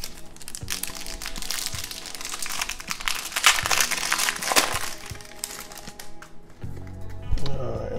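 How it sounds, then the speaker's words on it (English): Foil wrapper of a Tekken 5 Epic Battles trading card booster pack being torn open, with a steady run of loud, close crinkling and crackling for several seconds before the tearing settles into softer rustles. "I was gonna pop open this booster pack of Tekken 5 Epic Battles cards"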